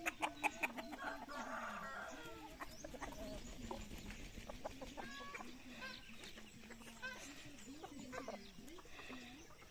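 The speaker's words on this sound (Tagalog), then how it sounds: "Malaking manok ito." Free-range chickens, including native labuyo, cluck and a rooster crows nearby in the countryside, with scattered bird calls and people talking over the flock throughout.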